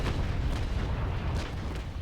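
Naval cannons firing in the Naval Action sailing game, a dense rolling rumble of heavy booms running together into one continuous low roar for a couple of seconds.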